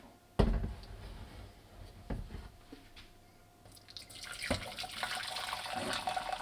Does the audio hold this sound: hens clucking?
no